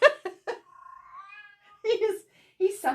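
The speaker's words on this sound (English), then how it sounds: "Can you hear my cat?" A pet cat gives a drawn-out, wavering meow at close range, set between bursts of a person talking nearby.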